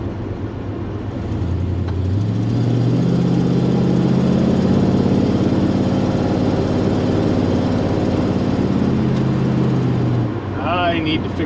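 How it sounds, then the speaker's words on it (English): A 1967 Dodge Dart engine with an exhaust leak runs loud and close while driving. Its steady drone rises in pitch, holds, then drops away near the end. "I need to fix that exhaust leak."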